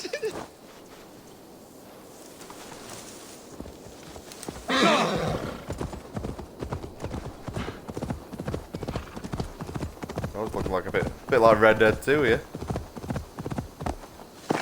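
Horse hooves clip-clop in Assassin's Creed Valhalla, a steady close trot with a whinny near the middle, while someone talks over much of it.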